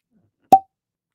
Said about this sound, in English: Open that up. Get a cork pop.